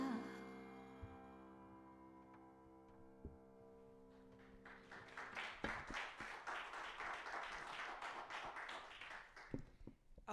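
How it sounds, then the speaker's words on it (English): Audience applause at a New Year's Burning Bowl church service swells up after a few quiet seconds and carries on as steady, dense clapping from a full room until the end. "one more round of applause"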